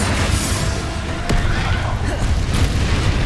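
A Confringo spell blast in Hogwarts Legacy sounds as a loud, dense booming burst layered over constant battle noise, with sharper cracks mixed in.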